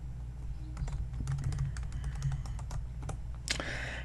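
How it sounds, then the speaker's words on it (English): Soft, close clicking of fingers typing on a computer keyboard, a steady patter of keystrokes with a few louder taps over a low background hum. "I'll type them in manually if that's okay"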